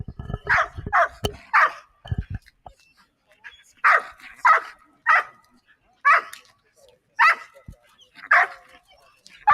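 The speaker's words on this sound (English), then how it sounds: "Beautiful, beautiful dog. Sweet dog." A police canine in Dutch-commanded training barks repeatedly in sharp, loud bursts, roughly a dozen evenly spaced barks close by, with a few low thumps at the start and no talk over them.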